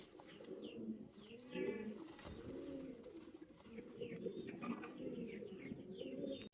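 A pair of Pomeranian pouter pigeons coos softly and repeatedly, with low rolling coos overlapping and small chirps above them in a quiet indoor setting.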